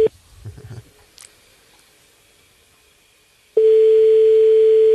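A steady telephone call tone sounds while a radio show dials a listener, with a brief beep at the start, a few clicks and a quiet gap, then a loud continuous tone filling the last seconds.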